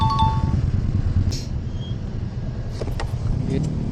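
Rush-hour road traffic on a busy street, a continuous low rumble of passing cars and engines with a few faint clinks, heard up close as background.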